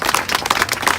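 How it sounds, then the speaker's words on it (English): A crowd at an outdoor arts event celebrating a parade and mural launch breaks into applause, a dense, steady wash of many hands clapping close by, with no voices on top. "Let's give her a big round of applause."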